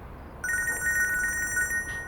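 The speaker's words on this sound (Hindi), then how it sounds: "फोन बज रहा है तुम्हारा।" A telephone rings in a Turkish drama scene with a bright electronic trilling tone. It starts suddenly and repeats steadily, clear and on its own with no talk.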